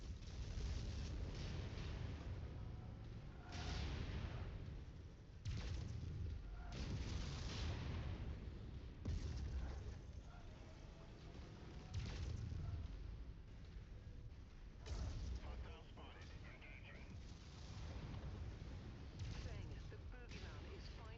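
Missile explosions and weapon fire in the MechWarrior 5 mech combat game, a continuous dense barrage of booms and rumbling blasts under game radio chatter.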